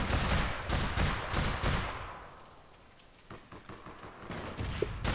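Gunfire in the online shooter APB Reloaded: rapid bursts of repeated shots at the start, easing into a quieter stretch before scattered sharper shots return near the end.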